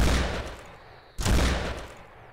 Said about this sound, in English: so a tube-fed shotgun. All right, neat. So that's like many more modern pump shotguns.